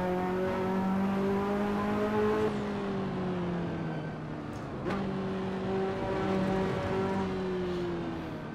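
A 1980s car engine in a racing simulator revs with a clear tonal whine, climbing and holding before dropping off around the gear change, then rising and holding again, loud and close with no talk.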